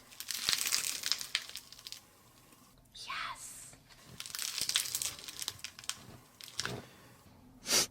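A clay cracking fidget shell crinkles and crunches close to the mic in quiet, uneven bursts, with soft speech in between and one sharp crack near the end.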